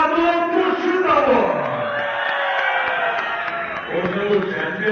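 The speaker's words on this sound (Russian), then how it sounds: "Аплодисменты обоим финалистам!" An audience at a grand prix final applauds and cheers loudly for two finalists, with a sustained wash of crowd shouting and clapping that swells and holds.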